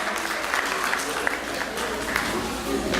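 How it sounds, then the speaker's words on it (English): Audience applause for children at a Detroit church Vacation Bible School presentation, a steady wash of clapping across the whole stretch with crowd murmur mixed in. "So huge round of applause to the kids for bringing all that stuff in"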